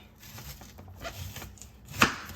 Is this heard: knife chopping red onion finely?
yes